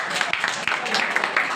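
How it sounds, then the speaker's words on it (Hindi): A short burst of audience clapping, with crisp individual claps audible within the steady applause. "इसके लिए ताली हो जाए।"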